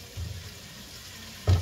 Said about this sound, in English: I'm just gonna add a little hot water to that